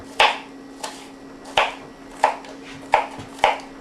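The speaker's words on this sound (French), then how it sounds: "on va en profiter pour couper nos oignons rouges" A knife chops red onions on a board in six sharp, evenly spaced strokes, each a crisp close thud, with a faint steady hum underneath and no voices.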